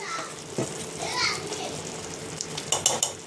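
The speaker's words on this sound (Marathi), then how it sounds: "स्लो गॅसवर हे शिजवून घेत आहोत सगळे मसाले प्युरी बरोबर आपल्या." Ground spices cooking with tomato purée in a pan over a low flame, giving a soft continuous sizzle with a few stirring scrapes and clinks, close by, with faint background voices.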